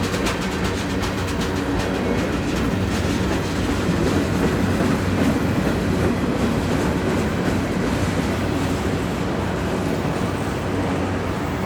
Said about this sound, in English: The lone rear DPU is UP7080, a GE AC4400 CW that's been given a rebuild and the flag paint scheme.